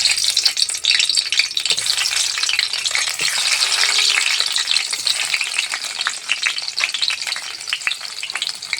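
Tomatoes hit hot mustard oil in a kadai and sizzle loudly and steadily, with a bright, close frying hiss and occasional stirring rattles and no voices.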